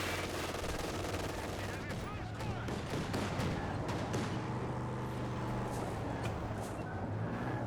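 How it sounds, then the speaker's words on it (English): Vickers and MG42 machine guns trading fire in the World War II strategy game Company of Heroes 2, a dense, continuous crackle of automatic fire with distant battle rumble and vehicle noise underneath, steady throughout. "Vickers fighting against the MG42."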